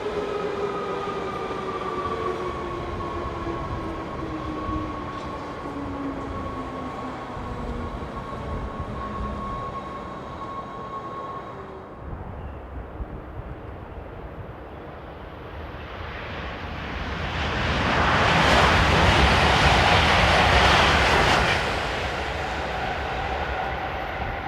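A DB Class 425 electric multiple unit passes, its motor hum and rolling wheels rising to a loud, broad roar near the end, then easing off.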